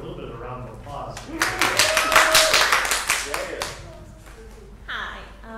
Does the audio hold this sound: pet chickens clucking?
no